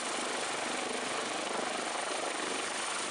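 A toy helicopter's whirring rotor hum, a steady, even buzzing drone close by with no talk over it, holding at a constant level throughout.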